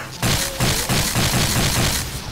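Rapid weapon fire from a Serious Sam 2 gun in the Garry's Mod zombie sandbox game, a dense run of loud repeated bursts lasting about two seconds, close and continuous.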